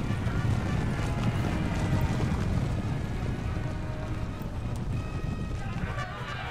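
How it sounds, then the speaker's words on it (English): Light Horse cavalry charge in the battle game Napoleon Total War, a dense continuous rumble of many hooves with battle noise, steady and loud across the whole stretch, no speech. "The Light Horse are charging in."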